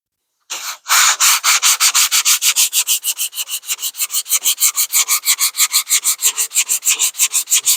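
A sanding block worked by hand over 2K primer on a car body panel, giving quick, even back-and-forth rasping strokes in a steady rhythm, close and loud.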